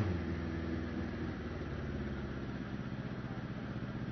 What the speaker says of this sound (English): The engine doesn't particularly want to run.